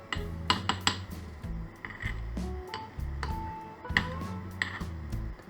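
Utensil clinking and scraping against a glass jar of oil warming in a bain-marie water bath while making lemon essential oil, a handful of sharp close taps and clinks over low rumbling.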